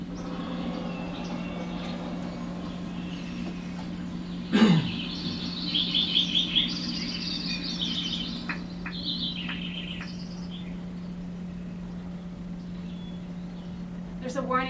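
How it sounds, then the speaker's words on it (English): Natural soundscape of a wild sanctuary: a steady insect drone under scattered bird chirps and trills, with one sharp call standing out near the middle. "to record the whole ecosystem, or what he calls the biophony, his term for the sounds of living organisms"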